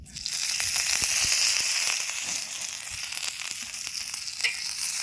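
Oil sizzles and crackles steadily on a hot pan just wiped dry after washing, a loud, close, continuous frying hiss with small pops throughout, cooked for North Karnataka wedding-style muddi palya served with jowar roti.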